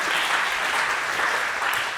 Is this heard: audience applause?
yes